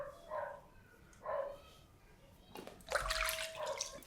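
Water splashes near the face during a final rinse after makeup removal, a short burst of running and splashing water following quieter hand sounds.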